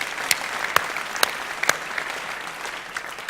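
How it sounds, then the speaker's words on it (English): Audience applause at a startup pitch event rolls on steadily, with a few sharper, louder claps standing out above the dense patter. "I think this deserves an applause"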